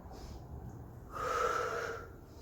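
A person exhales steadily through the mouth during a stick-based full-body workout exercise, a soft breathy push that swells for about a second over a low background murmur.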